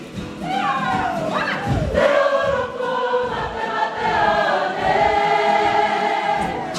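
Crowd cheering and calling out at a rugby medal ceremony, a loud, continuous wash of voices with rising whoops and a few thumps.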